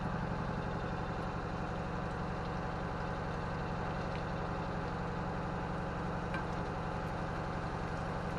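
Boat engine idling while warming up, a steady, even low mechanical chug that holds unchanged throughout with no voices.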